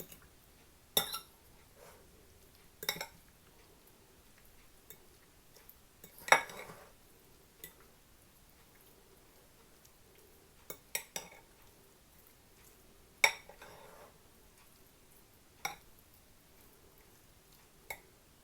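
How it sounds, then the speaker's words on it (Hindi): A spoon clinks and taps against a bowl while spices are mixed into raw chicken pieces, sparse sharp knocks a few seconds apart over near silence. "अब इसमें हम सारे मसाले डाल लेंगे। और इसको अच्छी तरह मिक्स कर लेंगे।"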